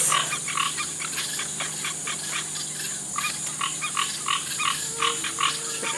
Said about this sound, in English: I hear the frogs are talking